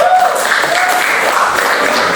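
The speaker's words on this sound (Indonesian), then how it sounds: "Beri tepuk tangan dulu untuk semuanya." Applause fills a classroom as the audience claps for a group that has just presented on the types of sujud during a teaching-practice lesson. Dense, steady clapping lasts the full stretch without pause.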